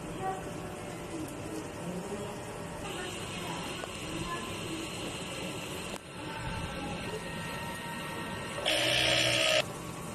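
Sublimation printer running a print head clean, a steady mechanical whir and hum with shifting motor tones and a louder buzzing burst near the end.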